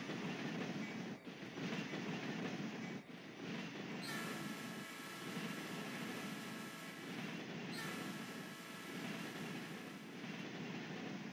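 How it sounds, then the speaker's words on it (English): A Cotton Belt grain train rolls across a diamond crossing into a rail yard in the Trainz simulator game, giving a steady loud rumble of wagons with clickety-clack wheel beats and a high metallic squeal near the middle. "We then quickly catch a cotton belt grain train crossing over the diamond into the Hearne yard."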